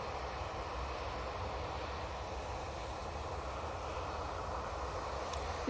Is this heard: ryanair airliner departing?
yes